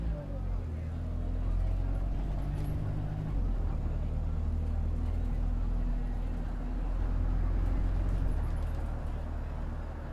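A London bus engine in the OMSI 2 simulator drones and revs steadily at a low pitch throughout, while someone talks over it.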